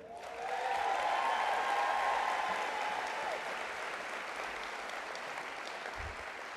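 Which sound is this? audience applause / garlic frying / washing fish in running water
audience applause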